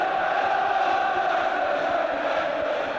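A football crowd at a QPR v Chelsea Milk Cup quarter-final tie in 1986 roars steadily. The noise forms a dense, sustained wall of cheering with no breaks.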